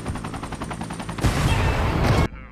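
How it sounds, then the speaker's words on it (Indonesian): Rapid pulsing rotor chop of a helicopter taking off in the film Olympus Has Fallen gives way to a loud, roaring explosive burst that cuts off abruptly, leaving a quiet tail. "Saat baru lepas landas, helikopter tersebut langsung meledak."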